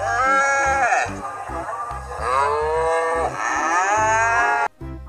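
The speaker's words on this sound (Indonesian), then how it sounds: "Ternyata ini kerbau." Water buffalo lowing in a video game set among dinosaurs, with several loud, drawn-out bellows layered over a steady, rhythmic game soundtrack, cut off abruptly near the end.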